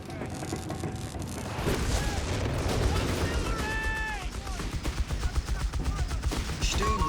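Gunfire and explosions from the video game Company of Heroes 3, a dense battle mix of rattling bursts and booms with a commentator talking over it throughout.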